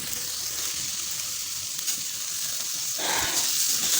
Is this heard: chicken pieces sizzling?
yes